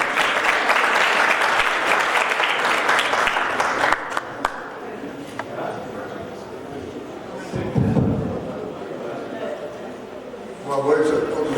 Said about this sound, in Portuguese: Vamos receber os participantes com uma salva de palmas,